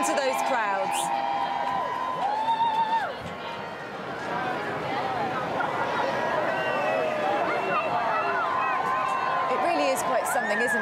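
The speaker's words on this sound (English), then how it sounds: "to see the crowds cheering and to be part of the atmosphere as those boats are rowed along" A large crowd cheers and whoops along the Thames as boats in a rowed flotilla pass, a continuous roaring swell with a brief dip before rising again, overlaid by talking voices.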